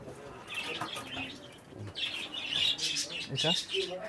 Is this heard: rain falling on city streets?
no